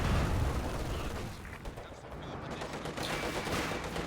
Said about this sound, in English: It's barrage from the Würfer.